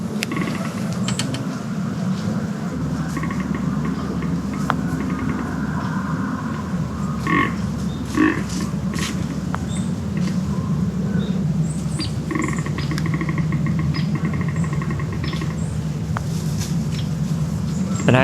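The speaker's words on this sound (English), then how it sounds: "all I can hear is just clicking, just over and over, grunting" Low, repeated grunts and rapid clicking sounds from a deer buck continue steadily outdoors, with creaky croak-like noises over a constant background hum.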